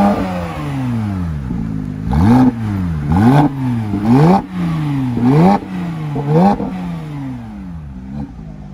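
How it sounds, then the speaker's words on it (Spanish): An automatic car revs hard again and again, each push a rising engine whine that drops back, about seven close, loud bursts in a row with no talk over them. "Ahora sí acelera."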